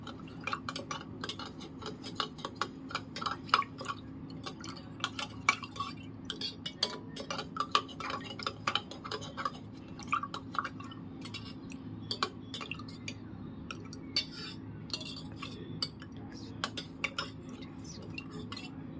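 A spoon stirs spiced masala buttermilk (chaas) in a container, producing steady faint metallic clinks and scrapes in a continuous rhythm, close up, with no talking.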